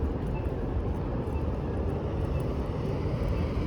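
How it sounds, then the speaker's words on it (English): A steady low roar of an airplane coming in to land fills the air over downtown Phoenix, Arizona, continuous and fairly distant, with faint street ambience beneath. "There's a plane coming in for a landing."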